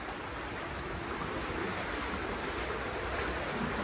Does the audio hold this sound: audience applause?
no